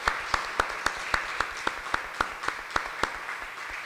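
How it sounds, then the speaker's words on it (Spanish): Congregation in a church claps in a steady unison rhythm, sharp evenly spaced beats about four per second over a soft background of scattered clapping, moderately distant. "A darles un aplauso bien fuerte, a ver."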